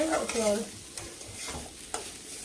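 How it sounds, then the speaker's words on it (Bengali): Food being stirred and fried in a pan for a Bengali dish with coriander leaves: close scraping spatula strokes over a steady sizzle, with no talking. "এটা ভালো করে মিশিয়ে নে"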